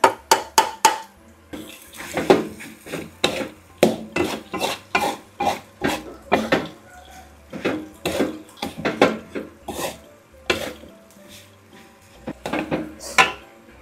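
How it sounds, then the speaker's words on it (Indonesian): Fried dried baby shrimp (udang rebon) go into a pan and are stirred, giving a rapid series of scraping, clattering utensil strokes against the metal, close and fairly loud, in an uneven rhythm. "Masukin udang rebon yang sudah kita goreng."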